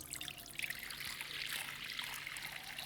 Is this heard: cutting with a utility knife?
no